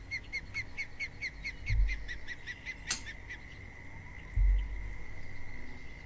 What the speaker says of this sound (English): I'm not the only one who just heard that fucking bird going off in my ear